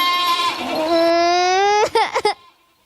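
A person imitates a goat's bleat with a long, wavering, nasal cry that breaks into a few short stuttered bleats before trailing off, loud and close with no other voices.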